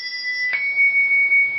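Handbells rung four-in-hand, with a bell struck about halfway through and a bright, sustained ringing tone lingering over a faint earlier ring.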